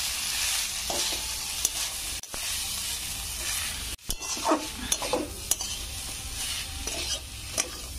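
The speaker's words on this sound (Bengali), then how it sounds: "এবার ভালো করে আমি এটা কষে নেবো।" Squeezed banana stem stir-fried in a pan for a poppy seed dish, a loud close sizzle broken by brisk spatula scrapes and a couple of brief pauses, no one speaking.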